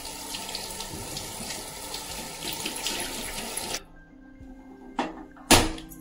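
Cold tap water runs steadily over boiled chowmein noodles for several seconds, then stops, followed by a couple of sharp clanks of a strainer or vessel at close range.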